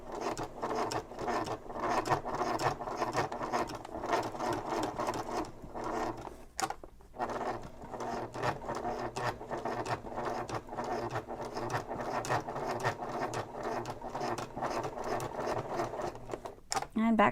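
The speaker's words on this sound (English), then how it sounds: "I'm going to sew forward, back, and forward again." A sewing machine sews slowly forward, back and forward again through a thick messenger bag, its needle chattering in a dense run with a brief pause partway through.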